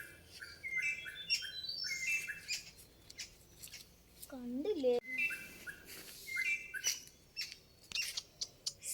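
Small birds chirp and whistle in quick repeated bursts at close range in a home, with a person speaking briefly between the calls.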